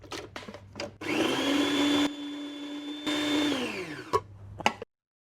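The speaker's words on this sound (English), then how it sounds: "So first of all, I'm going to blend my prawns." Food processor blending prawns, a loud motor whine that runs in two bursts with a short break between, ending as it spins down, preceded by a few clicks and taps.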